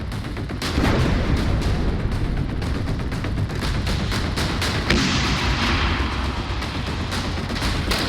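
Artillery fire and explosions during the war in Kharkiv, Ukraine, with Russian forces attacking: a dense, continuous rumble of booms and gunfire, loud and sustained, with a sharper blast near the middle and no voices.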